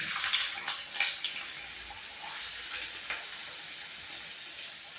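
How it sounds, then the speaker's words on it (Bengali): Soaked lentils tipped into hot mustard oil in a wok, giving a steady wet sizzle with splashy crackles throughout, close and moderately loud with no voices. "এই ডালটাই আমি কড়াইয়ে ঢেলে দিচ্ছি"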